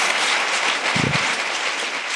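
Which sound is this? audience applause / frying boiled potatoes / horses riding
audience applause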